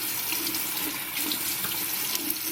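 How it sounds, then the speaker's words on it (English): Tap water running steadily into a sink while a face scrubber is rinsed, a loud, even rushing splash with no talking. "Rinse it, and then dry."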